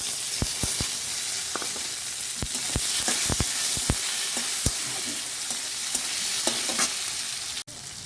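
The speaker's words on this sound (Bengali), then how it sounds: "এবার আমাদের টমেটোটা ভাজা হয়ে গেছে" Tomatoes frying in oil with bay leaves and cumin, a steady close sizzle broken by repeated scraping and clacking of a stirring spoon throughout.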